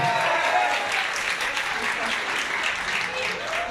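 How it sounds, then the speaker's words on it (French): Audience applause at the Miss Villeneuve d'Ascq 2023 pageant as a Mister France runner-up is presented: steady, dense clapping from a crowd, loud and sustained throughout. "On va l'applaudir, mesdames, messieurs."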